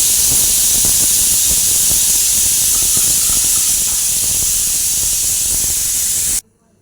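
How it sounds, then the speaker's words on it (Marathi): A pressure cooker cooking horse gram usal lets off a loud, steady hissing whistle of escaping steam that holds for about six seconds before cutting off abruptly. "याच्या झाकण लावून 4 शिट्ट्या करून घेऊ."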